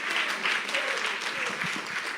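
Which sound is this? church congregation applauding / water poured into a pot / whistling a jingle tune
church congregation applauding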